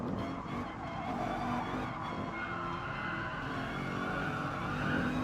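Race car tires squeal as the car understeers in a racing video game, a steady, fairly quiet skid over continuous engine drone with no speech.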